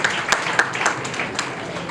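Applause in a university hall honouring a female professor of the Université pédagogique nationale: dense, steady clapping from a crowd, fairly distant and moderate in level, with a few sharper claps standing out.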